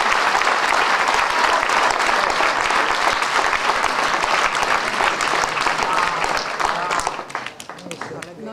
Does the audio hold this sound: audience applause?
yes